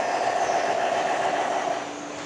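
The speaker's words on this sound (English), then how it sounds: "Look at this train." A model train runs in a conservatory display, giving a steady rolling rumble with a faint hum that holds evenly and then eases slightly near the end, with no talk over it.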